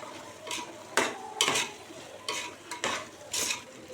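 Mushrooms are stirred in a pot while cooking mushroom biryani: a spoon scrapes and clatters in irregular strokes over a soft background sizzle.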